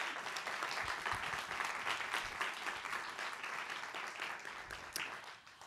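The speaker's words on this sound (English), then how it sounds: "Please give them a warm round of applause for being here." Audience at a youth policy forum panel applauds the panellists, a steady patter of clapping that holds for several seconds and slowly fades, fairly soft in the room.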